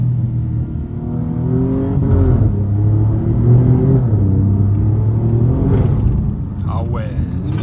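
Alfa Romeo Giulia QV engine pulling hard under throttle, loud rising and falling revs in several sweeps, close and throaty, with people talking over it.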